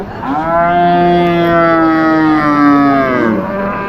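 A single loud, close cow moo at a cattle market, a long drawn-out low call lasting a few seconds before trailing off.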